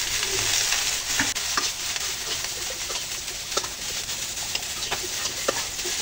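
Cauliflower and other winter vegetables with turmeric and salt sizzle steadily in a pan, with scattered scraping clicks as they are stirred; nobody speaks.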